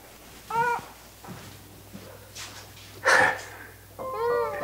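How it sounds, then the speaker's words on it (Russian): A cat meows several times up close, short harmonic cries spaced apart with a louder burst midway and a longer call at the end, over a low steady hum. "кот."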